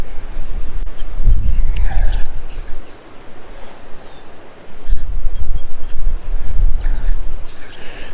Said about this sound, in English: This wind is blowing me around, guys.